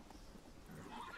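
Roach, a horse in The Witcher 3, gallops with a faint, brief drumming of hooves under soft in-game ambience.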